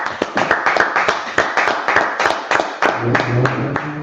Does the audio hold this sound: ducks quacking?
no